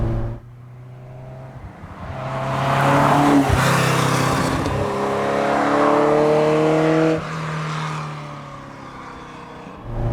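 A 1979 Ferrari 308 GTS V8 engine revs up and holds a loud, rising growl, then eases off and settles back toward a lower hum.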